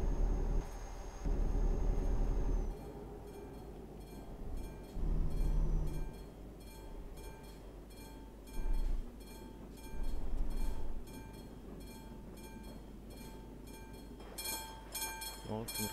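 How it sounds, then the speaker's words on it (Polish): A train passes at a distance in Poland, a steady rumbling roll with intermittent louder swells and rattling wagon noise, with speech heard partly over it. "Znowu pociąg."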